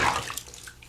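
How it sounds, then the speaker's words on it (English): Running water from a bath tap rinses a small child's hands in a bubble bath, a brief close splashing wash with no talk. "Here, rinse your hands off."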